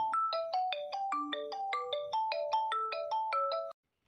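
A phone ringtone plays a bright, repeating melody of quick electronic notes for nearly four seconds before cutting off abruptly, with no talk over it.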